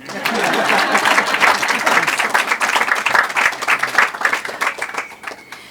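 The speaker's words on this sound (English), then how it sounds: "You can clap." Audience applause at an annual awards lecture event, a sustained burst of many hands clapping that fills the room for about five seconds before thinning out and fading.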